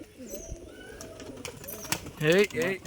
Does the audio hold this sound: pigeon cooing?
yes